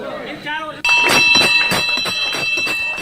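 Bells ring and drums beat as party workers recite the Hanuman Chalisa at a street gathering, loud rhythmic strikes and metallic ringing after a brief quieter opening, mixed with voices.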